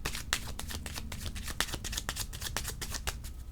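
Tarot cards being shuffled by hand, a steady run of crisp riffling flicks and slaps at close range with no one speaking.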